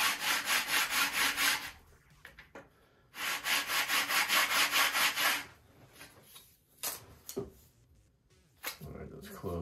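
Sanding with a Permagrit sanding tool during flap construction on a Top Flite .60 size P-40E Warhawk model airplane: two long, steady rhythmic rasping strokes, followed by scattered light knocks and scraping.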